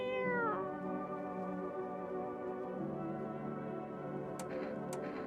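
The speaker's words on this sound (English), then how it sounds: "Hello, cat. You gonna keep us safe again today?" Cat meowing in a video game, one clear gliding meow at the start followed by a steady tonal ambient bed and two short clicks near the end, with no voices.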